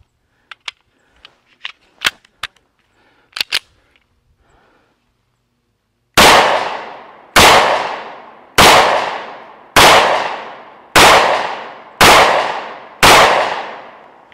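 ATI Moxie FXH45 hybrid 1911 pistol firing outdoors: a few faint clicks and taps, then seven loud, sharp shots at a steady pace of about one per second, each with a short decaying echo.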